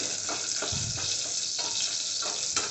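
Vegetables frying in a pan, a steady loud sizzle with soft stirring scrapes and small clunks recurring at intervals, with no talking.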